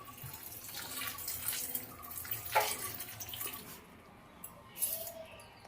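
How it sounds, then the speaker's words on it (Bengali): Jujube fruits (kul) being washed in water, a steady close splashing and swishing with several louder sloshes, then quieter trickles toward the end. "আরও একবার ধুয়ে নেব জল দিয়ে"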